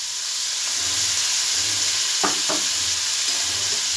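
Chopped onions frying with chicken in a hot pan make a loud, constant sizzle and hiss, broken by a quick pair of scraping stirs midway; close up, with no speech.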